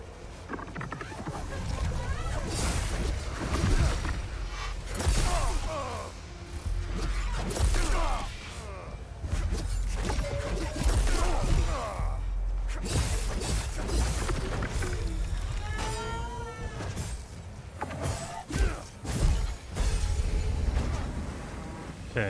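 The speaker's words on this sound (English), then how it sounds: "that sound is going to be Sound of the Guardian" Guardian creature in the video game Hell Is Us making eerie, wavering moans and groans over a rumbling ambient bed, rising and fading in several swells, with someone talking at times.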